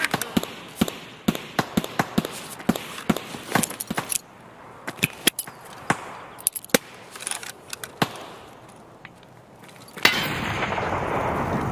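Gunfire in Escape from Tarkov, a stream of sharp single shots that crack out at an irregular, fairly quick pace. Each report is loud and close, and a harsher noise takes over near the end.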